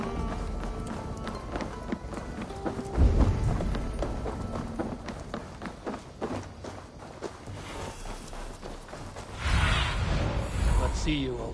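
Horse hooves clip-clop at a steady running gait in Assassin's Creed Valhalla, set by Dublin's gates, the rhythmic thuds continuing throughout under game ambience and music, growing louder near the end.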